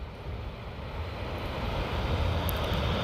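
Engines of an Airbus airliner rolling after landing at a busy airport, a distant steady roar and broadband rumble that grows slightly louder over a few seconds, with no voices.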